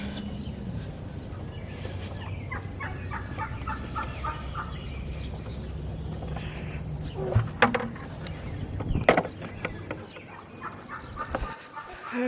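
Turkeys on a farm gobble in bursts over a steady low background rumble, with a few louder calls standing out near the end.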